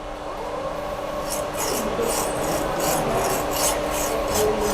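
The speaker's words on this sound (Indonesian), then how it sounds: "Selanjutnya saya akan melakukan penggergajian. Begini posisi saat menggergaji." A wooden workpiece clamped in a vise being cut with a hand saw in a school furniture workshop, loud rhythmic back-and-forth rasping strokes that settle into a steady pace, close and without speech.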